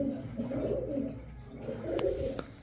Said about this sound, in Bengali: প্রথমে খুব সুন্দর একটা কবুতর, কি কবুতর এটা?